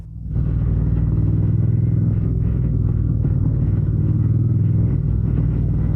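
Triumph Speed Twin 1200 RS motorcycle riding in heavy traffic, its engine a loud, steady low rumble that stays even from start to end, with no talk over it.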